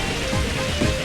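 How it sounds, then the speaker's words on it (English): In Pokémon XD: Gale of Darkness, a rain weather effect plays as a dense, steady hiss of falling rain that fills the scene at moderate loudness, with no voices over it. "Yep, there's the rain again."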